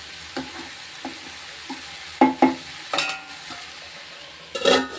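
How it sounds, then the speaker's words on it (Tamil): Bitter gourd stir-fry with masala is stirred in a pan at close range, with a soft sizzle beneath irregular spatula scrapes and clacks that get louder and more clustered toward the end, and no voices. "நம்ம எல்லா பக்கமும் மசாலா சேர்கிற அளவுக்கு நம்ம அப்படி கிண்டி விட்டுக்கிற வேண்டியதான்"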